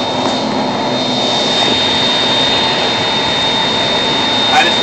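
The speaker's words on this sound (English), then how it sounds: "And they're firing up the other engine." A Boeing 767-200 jet engine spools up during pushback at an airport ramp, a loud steady roar with a sustained high whine layered over it, continuous and close for the whole stretch.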